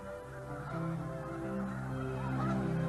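Snow geese honk together as a flock, a dense, continuous chorus of overlapping nasal calls at moderate distance, rising slightly in loudness.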